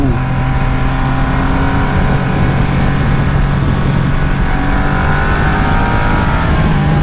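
A 2020 Triumph Rocket 3 R motorcycle engine pulls hard under acceleration, a loud, continuous close-up roar with rising tone as revs climb toward its 7,000 RPM redline in short gears, wind noise mixed in, no voices.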